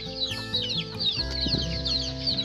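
A hen ready for breeding clucks repeatedly in a backyard poultry yard, close and fairly loud, with a brief low thump midway and other fowl faintly in the background.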